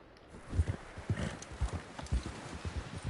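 Steady, fairly close hoofbeats from a ridden horse in Red Dead Redemption 2 thud in a loping rhythm, with soft scuffing between the heavier strikes and no talk over them.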